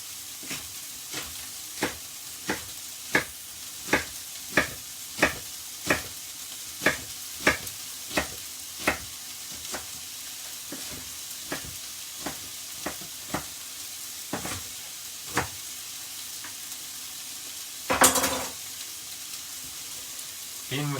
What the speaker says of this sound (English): In with the red and white cabbage.